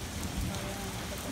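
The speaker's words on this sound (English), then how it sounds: "It is raining hard." Heavy monsoon rain pours down in a dense, steady roar of drops close by, with no pauses.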